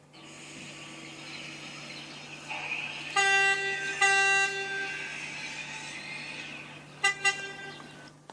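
R110 New York subway train horn in the Trainz video game, sounding in a long sustained tonal blast followed by another and then two short toots over a low steady hum.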